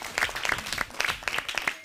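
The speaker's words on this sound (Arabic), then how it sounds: "صفقوا" A children's studio audience applauds, with dense, steady clapping filling the whole moment at moderate loudness and no talk over it.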